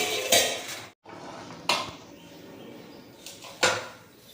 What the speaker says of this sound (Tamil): கொஞ்சமாக எடுத்து ஒரு தட்டில் போட்டுக்கலாம்